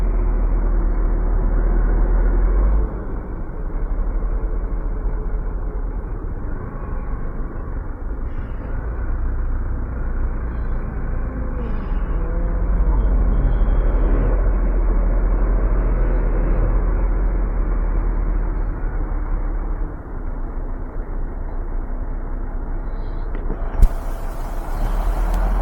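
Heavy road traffic heard from within it, a steady low rumble of engines and tyres with occasional brake hiss, continuous and fairly loud, with a faint voice in the background.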